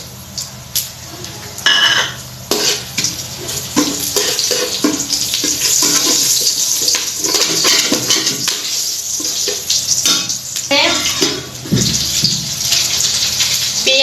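Bay leaf, cumin, cardamom, cinnamon and cloves sizzle in hot oil, a loud continuous hiss and crackle with scattered clinks and stirring scrapes throughout.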